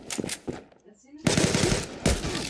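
Bursts of rapid gunfire from an M902 gun in a first-person shooter game, loud and close in two separate volleys with a short quiet gap between them.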